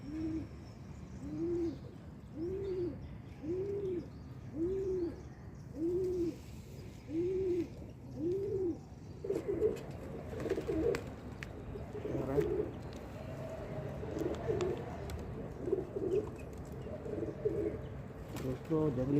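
A wild pigeon coos in a steady run of about eight soft, rounded hooting calls evenly spaced, then the calls turn rougher and mix with rustling and faint voices, heard fairly close but quiet.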